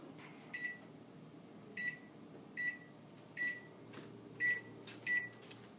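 Oven control panel beeping as it is set to preheat to 400 degrees in a home kitchen, six short electronic beeps spaced irregularly over a quiet background hum.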